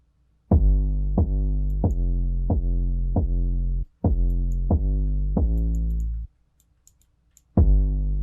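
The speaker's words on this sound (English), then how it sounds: "So you can hear that kick come way before the 808" A punchy kick drum hits in a steady rhythm, each followed by a deep, sustained 808 bass tone, with a brief pause before the pattern resumes.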